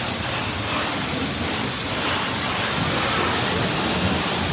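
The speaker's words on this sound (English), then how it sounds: "Rinsing and soaping." Car wash at Hanover, Pennsylvania, rinsing and soaping a vehicle: a steady, loud, broadband rush of spraying water fills the whole span without a break, close and even.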